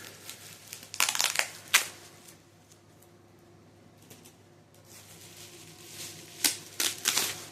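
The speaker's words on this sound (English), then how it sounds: "Let me just get this out of the tape here." A Blu-ray package being pulled free of tape, with bursts of crinkling, tearing and rustling near at hand, separated by quiet pauses.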